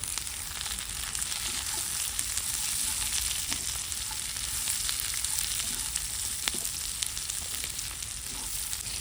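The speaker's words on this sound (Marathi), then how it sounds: "दालचिनी काळी मिरी लवंग तेजपत्ता दगड फूल, अख्खा दाणा अद्रक हिरवी मिरची परतून घेऊ आपण" Whole spices (cinnamon, black pepper, cloves, bay leaf, stone flower) with whole ginger and green chili sauté in hot oil, giving a loud, dense, continuous sizzle with crisp pops and light stirring throughout.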